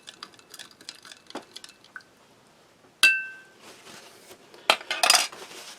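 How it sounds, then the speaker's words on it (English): A metal spoon clinks against a glass while stirring powdered drink into about half a glass of water during a Spanish army ration lunch taste test, giving light scattered taps, a sharp ring near the middle and brisker clatter at the end, close and fairly quiet. "Give that a good stir."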